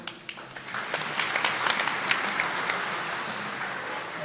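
A church congregation breaks into applause during a homily, a few scattered claps at first swelling into steady, even clapping that holds to the end.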